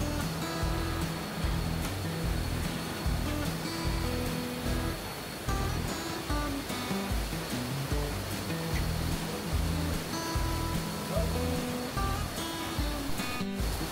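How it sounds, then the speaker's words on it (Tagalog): Steady, dense roar of falling water at Cueva Waterfall in San Fernando, Sibuyan Island, heard close and loud, continuous and unbroken for the whole stretch with no voices over it. "Welcome to Cueva Waterfalls dito sa San Fernando, Sibuyan Island."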